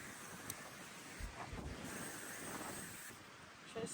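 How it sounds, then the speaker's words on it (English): Strong, relentless wind rushes across a microphone on the Pacific Crest Trail, a steady, faint roar with a few soft bumps and gusts. "Man, this wind is relentless today."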